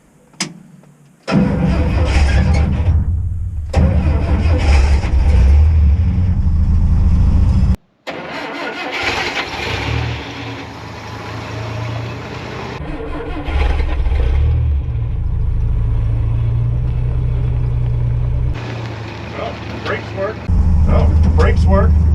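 Diesel-type engine of a Coleman 4x4 MB4/G40 aircraft tug with four-wheel steering cranks and catches, settling into a loud, steady rumbling idle that briefly cuts out and restarts, with people talking nearby.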